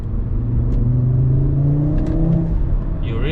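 Audi RS3 8Y accelerating hard in third gear, a loud, steady engine note with rising harmonics sustained throughout, close and continuous.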